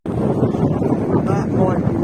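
Strong wind buffets the microphone aboard a sailboat reefed down in the Solent, a loud, constant roaring rush with some low rumble and no distinct breaks.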